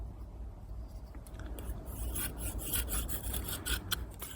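An Opinel No. 8 knife carves shavings off a wooden feather stick, making repeated rasping scrapes that speed up and grow louder after the first second and a half; nearby and continuous, with no talk.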